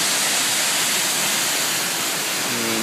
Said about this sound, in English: And here is the upper fall.